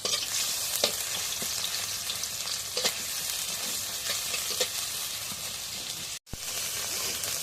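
Chopped onion sizzling in hot oil, a strong continuous frying hiss with scattered crackles and stirring clicks, cutting out briefly before resuming.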